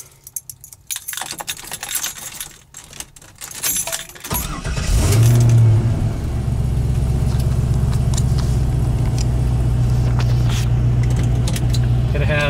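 A fuel-injected LS1 V8 in a 1969 Camaro cranks briefly and fires straight up, settling into a loud, steady, close idle after some rustling and key handling beforehand.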